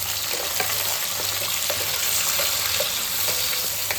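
Ingredients for egg biryani fry steadily in a pan, a continuous close sizzle with occasional stirring scrapes throughout.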